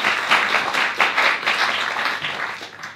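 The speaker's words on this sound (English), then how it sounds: "let's all have a little round of applause" An audience claps at a launch session, dense close-up applause that holds steady for a few seconds before starting to fade.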